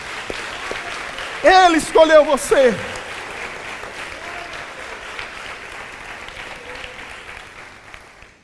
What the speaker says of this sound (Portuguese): Erga suas mãos e aplauda Ele.